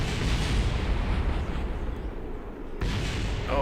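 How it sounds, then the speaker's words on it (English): A loud, rumbling rocket explosion in Kerbal Space Program with a roaring blast that sustains and then bursts again near the end, game-style and dense. "Let's just watch this thing explode."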